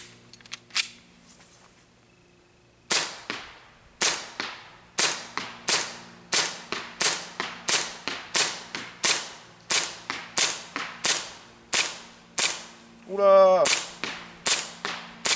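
Cybergun Colt MkIV airsoft pistol firing a full CO2 sparklet magazine: a rapid series of about twenty loud, sharp cracks at an uneven rhythm, near and dominant, with a brief exclamation from a voice near the end.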